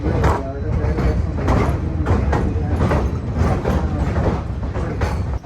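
The Goldstar passenger train crosses a final bridge into Fairbanks, Alaska, giving a steady close rumble with rhythmic clacking of wheels over rail joints, a continuous loud roll from inside the car.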